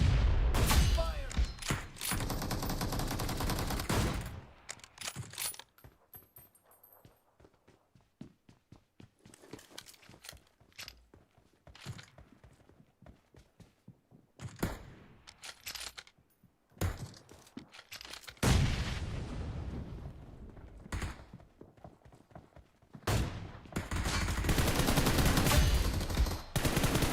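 Gunfire in the mobile battle royale game BGMI (PUBG Mobile): loud bursts of rapid automatic fire at the start and again near the end, with scattered single shots between quieter stretches.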